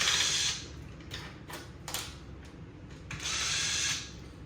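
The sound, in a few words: screws being removed from arcade cabinet control deck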